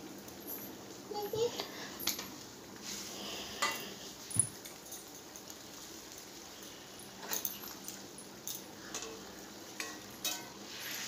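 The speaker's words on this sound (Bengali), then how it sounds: "মাছগুলো দিয়ে আমি ভালো করে নেড়ে চেড়ে নিব।" Koi fish fry in a pan in a sauce as a utensil stirs them, a soft sizzle running underneath occasional scrapes and clinks against the pan, with faint voices and household noise in the background.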